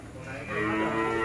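A bull on a cattle farm in Càng Long, Trà Vinh, lets out a loud, sustained, deep moo that swells and holds to the end, with no talk over it.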